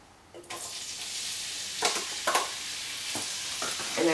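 Onion hits leftover chicken fat at the bottom of a pan and a steady sizzle starts right away, with a few louder crackling bursts as the pieces settle and get stirred. No one speaks.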